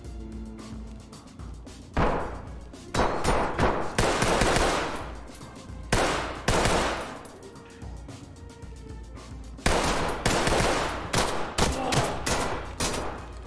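Gunfire in the tactical shooter game Ready Or Not: loud bursts of automatic rifle fire and single heavy shots recur in clusters with short pauses, punchy and close throughout.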